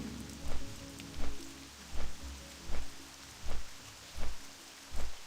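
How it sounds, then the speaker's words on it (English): Rain ambience in Ashenvale from World of Warcraft Classic: a soft steady patter of rain with a muffled thudding beat repeating roughly every three quarters of a second, fairly quiet overall. "Some rain and Ashen Vale."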